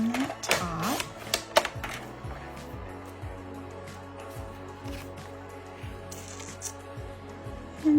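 Paper cardstock is trimmed for a stamped greeting card, with a series of sliding, ticking cuts and soft paper handling close to the mic, with a faint low hum beneath and no voices.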